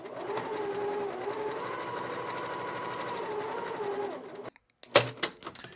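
A sewing machine chain piecing quilt scraps runs steadily for about four seconds with a whirring, pitch-shifting drone, then stops, followed by a couple of sharp clicks and handling knocks.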